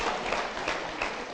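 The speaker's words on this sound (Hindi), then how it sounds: "तालियां बजाइए" Studio audience applause on a Pakistani comedy talk show, a short burst of dense clapping that holds at a moderate level throughout without any voices over it.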